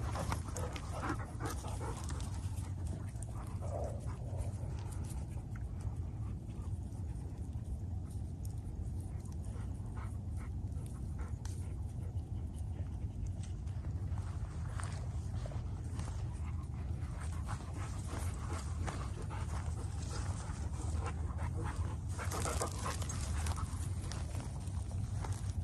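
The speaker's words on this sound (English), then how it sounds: "Oh, the good puppy." Puppy panting steadily and close with soft rhythmic breaths and faint movement, sustained throughout with little talk.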